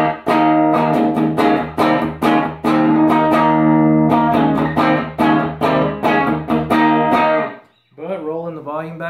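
A Johnston Telemaster electric guitar in lake placid blue with a P90 pickup plays a string of plucked, gritty notes and chords with a growly edge, then someone speaks over a fading ring at the end.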